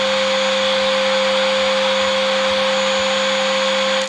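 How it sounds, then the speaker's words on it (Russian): A Deerma DEM BY700 steam cleaner runs with a steady, loud mechanical whine and constant tonal hum, unbroken, then cuts off abruptly at the end. "Пароочиститель достаточно мощный, но шумит не так уж сильно."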